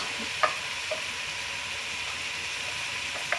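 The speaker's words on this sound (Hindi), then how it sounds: "ये थोड़ा सा पानी इसमें डालूंगी ताकि मसाले जले ना" Hot oil sizzling and hissing steadily as a little water hits spices frying in a pan, close and constant, with a few faint clinks of a spoon against the pan.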